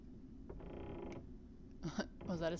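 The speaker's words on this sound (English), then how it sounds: "The creaking floors." Wooden floor creaks in the horror game The Demonologist, a few drawn-out groans and shorter squeaks spread across a couple of seconds, fairly quiet and close.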